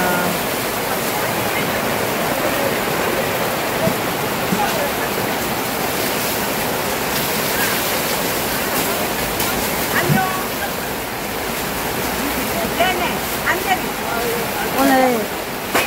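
Heavy rain pours down in a dense, steady roar at an outdoor free meal service during a downpour, with faint voices and occasional clatter mixed under the wash.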